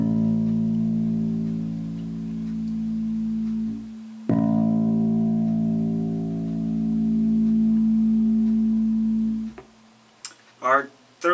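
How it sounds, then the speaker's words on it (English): A single plucked string tuned to A rings out in two sustained, evenly decaying notes, each lasting several seconds, followed by a brief stretch of talking at the end. "it's the string that codes for the tone A, and it sounds something like this."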